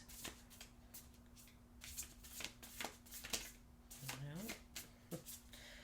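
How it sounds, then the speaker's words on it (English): Thick-stock oracle cards are shuffled in a quick series of crisp, papery riffles and flicks, close and fairly quiet, with a soft voice faintly present underneath. "One oracle card, please."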